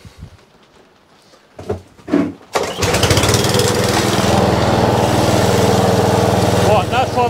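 An Atco Balmoral petrol lawn mower, sold as spares and repair, cranks a few times and then fires up, settling into a loud, steady close-up engine run; there is no talking over it.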